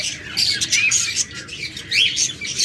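Pair of pet birds, a lutino female and a pied male, chirping in quick, bright bursts of high twittering, close and lively with no talk.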